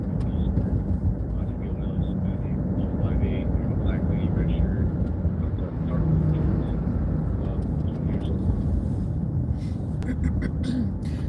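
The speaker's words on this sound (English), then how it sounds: "So you're gonna be able to hear the chopper. So the chopper's up" A police helicopter flies overhead on a city patrol, heard as a steady, fairly low rotor and engine rumble in the background, with people talking over it.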